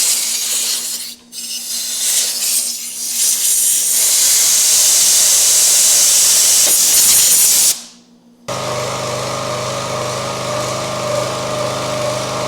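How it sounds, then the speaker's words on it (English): Air hose blasting compressed air into the groove of a log splitter, a loud, steady hiss that stops abruptly, followed by a running engine hum, with no talking. "take the air hose, spray out this groove"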